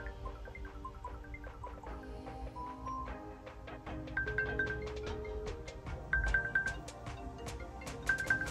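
Apple Watch Series 10 ringtones previewed one after another from the settings menu, a series of short chiming, plinking electronic tones with repeated melodic notes, quiet and close, no voices.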